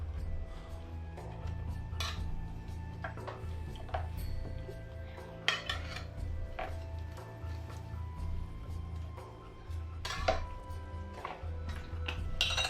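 Fresh green beans tumble into a pan of buttered roast potatoes, with repeated clinks and scrapes of utensils against the pan over a steady low sizzle and kitchen hum, no one speaking.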